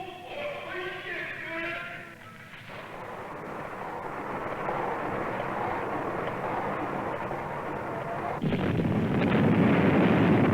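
Archival film of China's first nuclear weapon detonation in 1963: a loud, sustained rumbling roar that swells and grows heavier toward the end, with no voices over it.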